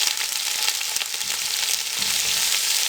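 Finely chopped cabbage hitting a pan of lightly browned onions, a loud, dense crackling sizzle that holds steady throughout with faint stirring taps.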